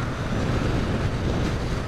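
Wind rushes steadily past a moving vehicle on Nepal's Mahendra Highway, a loud, continuous broadband roar with no talking.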